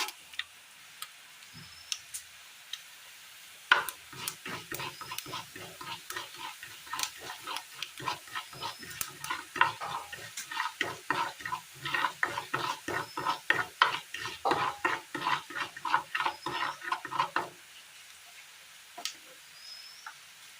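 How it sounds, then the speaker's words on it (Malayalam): Mustard seeds and urad dal dropped into hot oil, crackling and popping in a dense run of sharp pops that builds then fades after about fourteen seconds, with faint background hiss and no voices. "എണ്ണ ഒഴിച്ചതിന് ശേഷം നന്നായി ഒന്ന് ചൂടായി വന്നിട്ടുണ്ട് എണ്ണ. ഇതിലേക്ക് കടുക്,"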